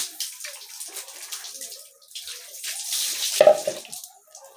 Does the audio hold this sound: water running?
yes